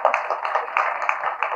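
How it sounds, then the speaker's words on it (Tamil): An audience at a Tamil film audio launch claps lightly, a dense, moderately loud patter of hands that runs unbroken with no voices over it. "கொஞ்சமா கைத்தட்டுங்க"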